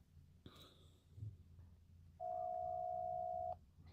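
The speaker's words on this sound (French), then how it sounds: "Ça sonne dans le vide, ça va sonner sans arrêt ou?" A single long telephone ringing tone plays through the line on a call that goes unanswered, with quiet breathing and small handling noises around it.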